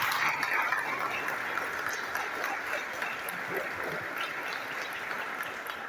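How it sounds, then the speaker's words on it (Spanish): A congregation gives sustained applause to welcome Bishop Miguel Ángel Castro Muñoz at a celebration of fifty years of the Dominicans in Mexico, with a steady, dense wash of clapping from a large gathering. "Lo recibimos con un fuerte aplauso."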